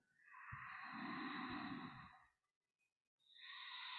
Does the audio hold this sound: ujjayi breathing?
yes